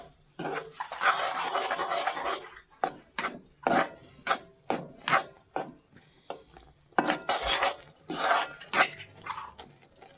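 Besan batter being stirred in a pan over low heat, a series of rhythmic scraping and rubbing strokes of spoon against metal, close and distinct, with brief pauses between bursts.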